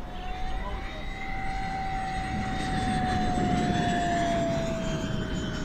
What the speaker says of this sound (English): we're gonna rip it with a tailwind, full throttle Johnny